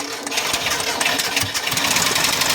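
A Mitsubishi Lancer's rough-sounding starter cranks its reluctant engine, a rattling noise churning steadily for a couple of seconds, loud and close.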